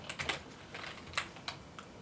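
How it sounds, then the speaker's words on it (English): Quick, uneven clicks of typing on a computer keyboard, a handful of light keystrokes close by in a quiet room. "now it's all done on my keyboard"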